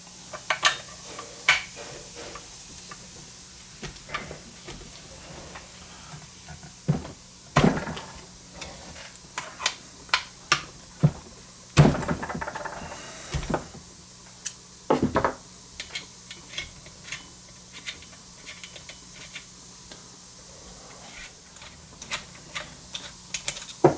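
Metal tool clicks and ratchet-like clacks while 5mm clutch bolts come out of an OBR 32 reed case engine, its flywheel held steady; irregular sharp taps and scrapes, close and fairly quiet, with no talking.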